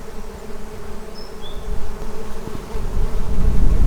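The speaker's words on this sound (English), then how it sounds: "I'm assuming that these are solitary bees." Solitary bees buzz around outdoors on a Portuguese farm, a steady insect hum with passing whines close by, growing slightly louder toward the end.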